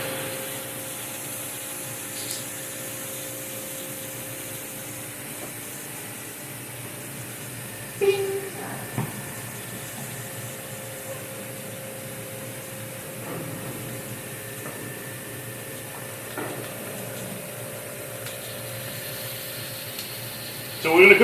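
A burger patty cooks on a hot pan with a soft, continuous sizzle and hiss, fairly quiet and even, broken by a few light clicks and scrapes.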